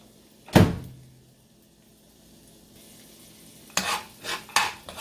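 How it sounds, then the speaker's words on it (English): Carrots and onions sauteing in olive oil, stirred with a spoon: a sharp clank of the utensil against the pan early on, a quiet stretch, then a burst of scraping, clinking strokes near the end. "Then just get a spoon and saute the vegetables"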